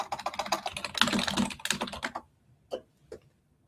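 Rapid typing on a computer keyboard: dense, close clattering keystrokes for about two seconds, then a few isolated taps separated by short silences.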